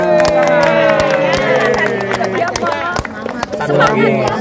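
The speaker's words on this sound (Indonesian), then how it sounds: "Tepuk tangan." Scattered clapping from a crowd, sharp irregular claps over a busy murmur of voices, with people talking and calling out nearby.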